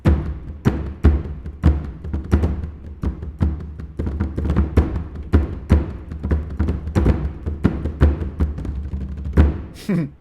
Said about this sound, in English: Here I have the 3 Bodhrans.